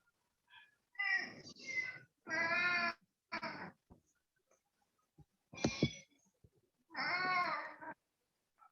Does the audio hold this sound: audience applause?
no